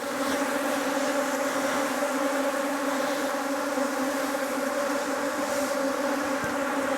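A swarm of honeybees buzzing around a top bar hive makes a dense, steady drone that fills the whole stretch at close range, with no talking.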